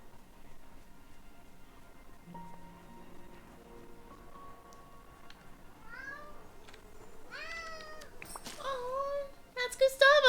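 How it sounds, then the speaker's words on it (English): A pet kitty named Gustavo gives a series of short, clear meows that grow more frequent and a little louder toward the end, heard close against a quiet room with faint background tones. "that's Gustavo, my little kitty cat."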